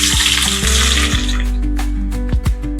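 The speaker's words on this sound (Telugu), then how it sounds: "కడాయిలోకి 4 teaspoons ఆఫ్ ఆయిల్ వేస్తున్నాను. ఇప్పుడు 1 cup తరుక్కున్నాం కదండి ఆనియన్స్ వేస్తున్నాను ఫస్ట్." Chopped onions dropped into hot oil in a kadai, giving a steady, loud sizzling hiss with a few scraping clatters from stirring, no voices.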